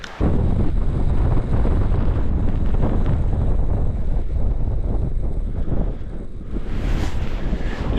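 Strong gusting wind on a snowy mountain in blizzard conditions, a loud, continuous roar buffeting the microphone for the whole stretch and easing slightly near the end, with no voices.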